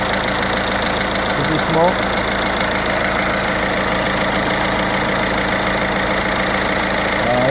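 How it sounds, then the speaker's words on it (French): An HDI diesel engine idles steadily just after starting, a loud continuous rumble with a faint rhythmic knock throughout, as someone speaks briefly over it. "le moteur démarré"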